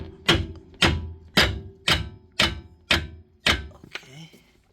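Rubber mallet striking a suspension link stud on the front strut assembly of a 2003-2007 Infiniti G35: seven evenly spaced, heavy thuds, loud and close, followed by a faint metallic rattle.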